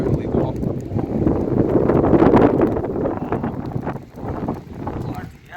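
Strong wind gusts through a Lake District valley at a wild tarp camp by a riverbed, a steady close buffeting roar that swells and eases, with people talking underneath.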